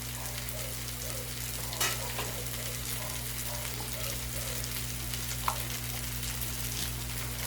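Food sizzles and fries steadily in a pan with a pinch of salt added, while a utensil stirs it in soft scraping passes; a low constant hum runs underneath, with no talking.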